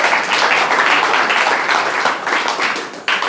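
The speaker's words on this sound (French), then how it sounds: "applaudissons pour le Seigneur" A church congregation claps together in praise during a worship service, producing a thick, continuous wash of hands with a few sharper claps standing out near the end.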